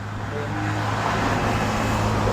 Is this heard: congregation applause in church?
no